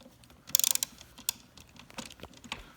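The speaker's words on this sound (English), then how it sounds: "You take the number 8 Allen, put that on there and tighten this up." A number 8 Allen key tightens a bolt on a Can-Am Spyder F3 with a quick run of small metallic clicks, followed by a few scattered, faint taps and scrapes nearby.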